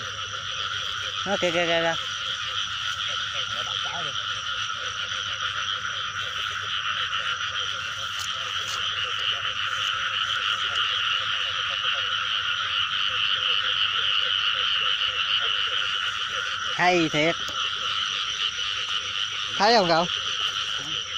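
Field frogs croak on a rainy night in rhythmic bursts, close and loud over a constant insect-like drone, while people talk briefly between calls.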